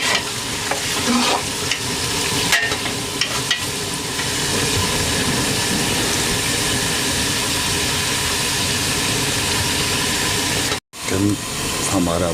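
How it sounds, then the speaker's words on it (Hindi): Three kilos of chicken with onions frying in a large pot for chicken pulao biryani, a steady dense sizzle and crackle with occasional stirring scrapes, close and loud throughout. "अब इसमें हम डालेंगे 3 किलो चिकन, जिसको हम अच्छी तरह से फ्राई करेंगे।"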